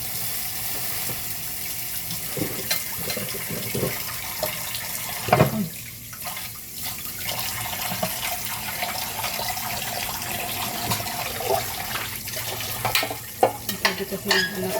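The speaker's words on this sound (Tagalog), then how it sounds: "Hugasan ko muna ng kawali." A frying pan (kawali) gets washed under running tap water in a home kitchen, with a steady splashing stream, scraping and clinking of the pan, and occasional sharper knocks throughout.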